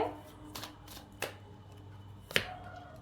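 Tarot-style cards are shuffled and drawn during a card reading, heard as a few soft brisk riffles and snaps at a quiet close distance.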